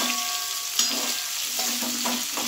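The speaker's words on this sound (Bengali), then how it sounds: "একটু হলুদ দিয়ে আলুটা ভালো করে ভেজে নেব" Potato pieces seasoned with salt and turmeric fry in a pan with a steady, close sizzle. A few stirring scrapes sound through it, and there is no talk.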